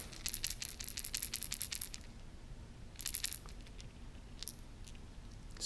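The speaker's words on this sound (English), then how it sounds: "the standard rattling Vibration X Micro. You guys can hear that." A Megabass Vibration X Micro fishing lure is shaken close up, its internal rattle giving bright clicking bursts in two quick runs, then a few scattered single clicks.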